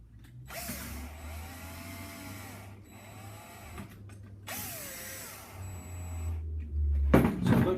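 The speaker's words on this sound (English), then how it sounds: "Then you're going to install your deadbolt screws." A deadbolt's mounting screws being driven and tightened during installation of a BHP electronic deadbolt, a steady whirring tool drone in several runs with short pauses, close and moderately loud, no talk.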